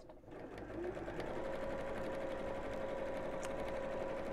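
A sewing machine runs steadily, stitching down both sides of a fabric bag, a continuous close motor whir with a steady tone that holds for several seconds with no talking.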